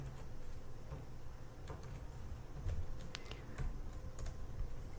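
Quiet, steady clicking of keys on a computer keyboard, a continuous run of light taps with a few sharper strokes, heard alone at low level.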